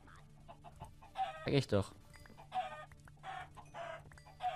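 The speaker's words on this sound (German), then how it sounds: "hier sind schon überall Hühner" Minecraft chickens clucking in a German multiplayer session, several short cluck bursts scattered across the moment, close and clear, with a louder cluster near the start and players speaking briefly between them.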